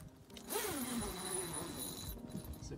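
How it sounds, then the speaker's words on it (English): A tent zipper is drawn open along the fold-out ensuite of an Armor X10 hybrid offroad camper, one close, steady rasping pull lasting about two seconds. "Zip it open."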